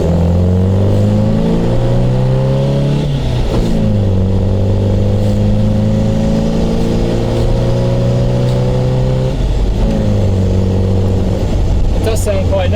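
MGB GT sports car engine while driving at around 50 mph, a loud steady drone with gear-change dips and rising revs, heard under someone talking.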